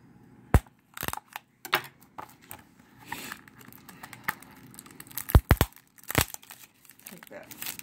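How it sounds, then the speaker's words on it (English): Plastic shrink wrap being torn and crinkled off a DreamWorks Trolls Holiday Blu-ray case, close and sharp, with bursts of crackling and tearing between quieter handling noises. "Take that plastic wrap off."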